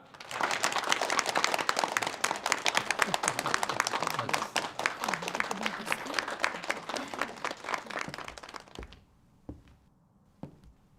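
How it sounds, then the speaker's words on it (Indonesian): An audience at an official ceremony launching a city education programme breaks into loud, dense applause that holds steady for about eight seconds, then cuts off, leaving a couple of isolated thuds in the quiet. "Tepuk tangan."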